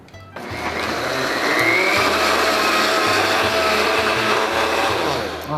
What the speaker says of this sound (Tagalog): So everything goes into the blender.